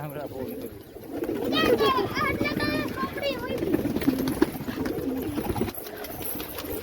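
Pigeons coo repeatedly at close range in a rooftop pigeon house, their throaty calls overlapping steadily while people talk nearby.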